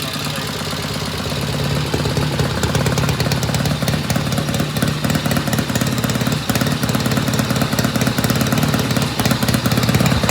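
A 1972 Norton Commando engine runs loud and close, with a rapid, steady mechanical clatter from a rattling stator over its throbbing idle that builds slightly and holds for ten seconds.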